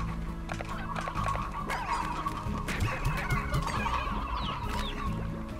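Roostros and hens from the video game Slime Rancher cluck and chatter continuously, mixed with other layered game creature sounds at a moderate level, with no voices.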